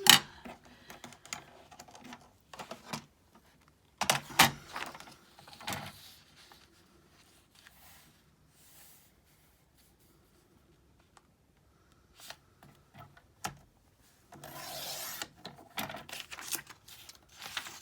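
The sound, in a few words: paper trimmer cutting a folded page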